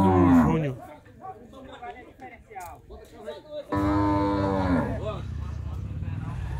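Cattle moo loudly nearby at a livestock fair in Estrela de Alagoas, Brazil, one long low bellow opening and another drawn-out moo later, with people talking Portuguese in between.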